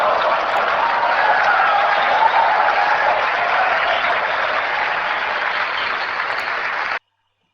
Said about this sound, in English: you've got the crowd just going crazy for a really juicy feature being added to the Mac OS operating system